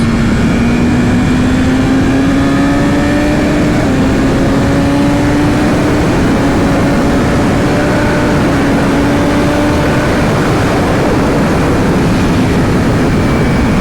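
A motorcycle engine revs hard and accelerates, its loud, buzzing drone climbing steadily in pitch with brief dips at gear shifts, close and continuous and heard alone over strong wind rush.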